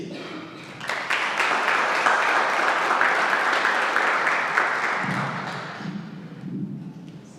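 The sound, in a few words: audience applause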